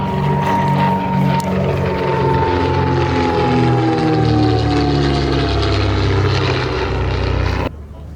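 A vintage propeller aeroplane at Shuttleworth drones loudly and steadily as it flies in for a wheeler landing, its engine note sliding gradually lower before cutting off sharply near the end.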